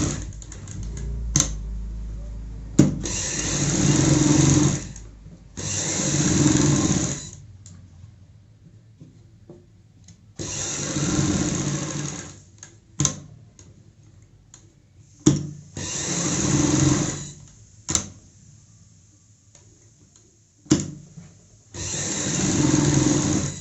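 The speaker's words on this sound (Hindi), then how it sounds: "यहाँ से सिलाई की शुरुआत करेंगे हम। एक पैर चौड़ाई वाली सिलाई लगाएंगे।" A sewing machine stitches a baby frock for a six-year-old girl, starting the shoulder seam with a presser-foot-width stitch. It runs in repeated bursts of steady whirring, each a few seconds long, separated by short pauses with small clicks, fairly close.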